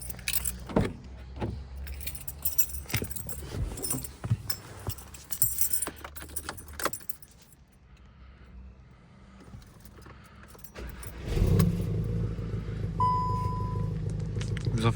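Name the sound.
Volkswagen Golf 7 GTI engine being started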